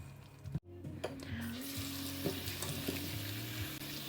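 Tomatoes softening in a hot pan give a steady sizzle with occasional stirring scrapes, close and continuous, briefly interrupted by a sharp clack near the start and a low hum running underneath.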